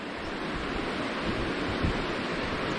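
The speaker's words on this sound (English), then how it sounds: "That's quite a big river, this," Big, fast-running brown river in flood seen from the bridge at Willow Ford along Hadrian's Wall, a steady broadband rushing roar of water with no pauses and no talk.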